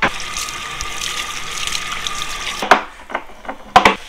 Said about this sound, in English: So I'm getting a wash and a shampoo.